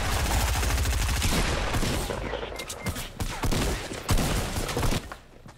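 Rapid bursts of automatic gunfire in the video game Fortnite, a dense, loud barrage at first that breaks into separate sharp shots and short volleys toward the end.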